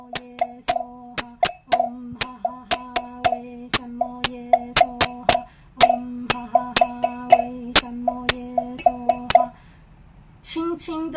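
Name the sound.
ritual bell (genta) being struck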